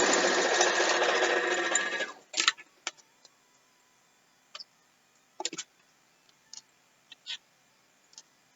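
A sewing machine stitches quilt pieces in a steady buzzing run that stops after about two seconds, followed by scattered faint clicks and ticks of handling fabric and the machine, close and quiet with no talking.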